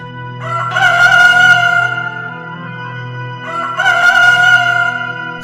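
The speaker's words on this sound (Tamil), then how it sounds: "சேவல் கூவுமுன்" A rooster crows twice, loud and close, each call a long drawn-out cry with a short gap between them.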